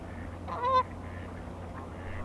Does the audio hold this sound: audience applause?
no